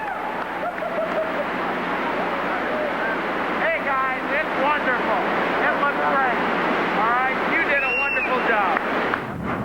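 A 60,000-gallon flood of rushing water is unleashed as a tram-ride special effect at Universal Studios Hollywood, a steady broad roaring wash that lasts throughout while someone talks over it.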